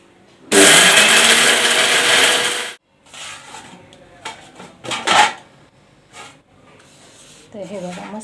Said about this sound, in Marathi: आणि आता याला मिक्सरमध्ये ग्राइंड करून घ्यायचं आहे.